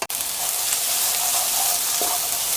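Minced garlic sizzles steadily as it is stir-fried in a pan with sliced chili peppers, a loud, continuous frying hiss after a brief clatter at the start, with faint stirring scrapes underneath.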